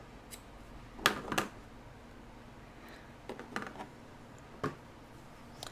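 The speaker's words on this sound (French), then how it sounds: "je viens couper l'excédent de laine" Scissors snip off excess wool yarn in a quiet room, a few short sharp clicks in small clusters, faint and spaced out with silence between and no talking.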